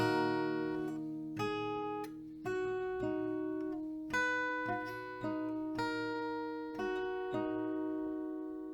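An acoustic guitar picks out a part as a series of clear, ringing plucked notes, each left to sustain and decay, played solo and close with no voices.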